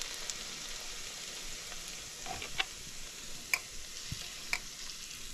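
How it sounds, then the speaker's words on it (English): Very hot oil poured over ginger, cilantro and thyme sets off a steady sizzling hiss. A few sharp pops and crackles break through, with no voices. "The ginger, cilantro, and thyme. Getting a bath of very hot oil."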